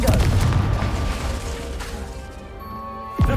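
A Confringo spell explosion in the Hogwarts Legacy video game, a loud booming blast with a crashing rumble that slowly decays over a few seconds before a short sharp sound at the end.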